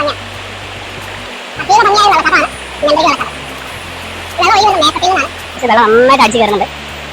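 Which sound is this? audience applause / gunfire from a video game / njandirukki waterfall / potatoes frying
njandirukki waterfall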